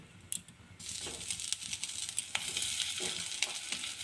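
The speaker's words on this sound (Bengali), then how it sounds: "ভালোভাবে গরম হয়ে গেছে পনিরগুলো ভেজে নেবো" Pieces of paneer frying in hot, lightly salted oil in a kadai over low heat, a quiet sizzle with scattered clicks and scrapes from the pan.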